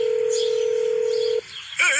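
A small phone plays a long dial tone, then goes quiet briefly before a short burst of keypad dialing tones, close and clear, as an old man dials a number.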